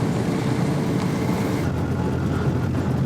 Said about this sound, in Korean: 드넓은 툰드라 초원이를 요란한 모터 소리를 내는 장비들이 달립니다